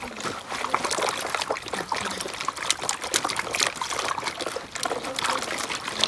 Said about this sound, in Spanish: vamos a lavar las papas